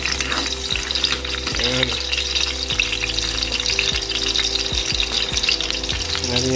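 Garlic fries in hot oil for an octopus dish, a dense, continuous sizzle with occasional stirring scrapes, while someone talks briefly over it.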